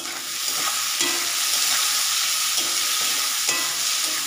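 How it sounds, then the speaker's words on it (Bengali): Potatoes frying in a pan with onions and green chillies in a home kitchen, a constant bright sizzle with occasional soft stirring knocks, close and alone. "আলুটা একটু ভাজবো"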